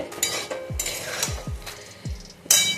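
A utensil scrapes and clinks against a pan as paneer is stirred, giving several short metallic scrapes with a few sharper knocks and no talking.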